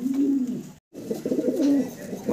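A pair of Tamasin pigeons, black checker with dark kohl-ringed eyes, coo close by in two low, throaty phrases separated by a brief pause.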